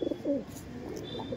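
Pigeons just let loose at a backyard loft give soft low coos, a few brief murmuring phrases close by over faint ambient noise, with no voices.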